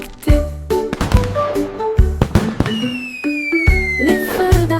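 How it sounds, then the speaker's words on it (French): Fireworks bursting in a rapid irregular series of loud booms and crackles, with whistling rising tones and musical accompaniment underneath. "Les feux d'artifice de Jack ont illuminé la voie lactée."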